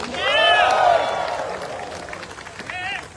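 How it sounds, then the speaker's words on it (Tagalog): Audience at a Manila event applauding and shouting, a loud burst of clapping and cheering that slowly fades, with voices calling out above it. "Palakpak kami kasama sigawan."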